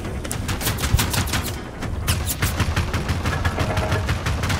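A companion robot fires rapid bursts of gunfire in the video game Generation Zero, sharp evenly spaced shots in quick succession, loud and continuous apart from a brief lull, with no voices.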